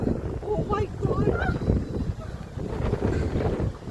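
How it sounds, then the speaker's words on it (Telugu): Wind gusts across the microphone at Himayat Sagar eco park, a near, rumbling buffet that runs steadily under people talking throughout. "మంచిగా గాలి కూడా వస్తుంది"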